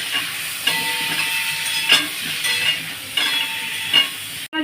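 Papaya, onion and green chilies fry in a pan for chicken soup, a steady hiss of sizzling with occasional sharper scrapes and clinks of stirring, close and without talk.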